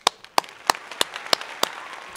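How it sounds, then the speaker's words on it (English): Isolated hand claps ring out at a graduation ceremony for high school graduates, about six sharp, evenly spaced claps that sound sparse and moderately loud with no talking. "I offer my applause to your accomplishments."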